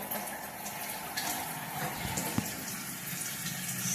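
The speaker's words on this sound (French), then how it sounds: "j'allume l'eau" Bathroom tap running into a sink, a faint steady hiss of water with a small clunk partway through.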